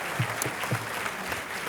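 A crowd claps for comedian Darrell Dawson at a live comedy event, a brief burst of sustained applause with a few sharper individual claps standing out near the front.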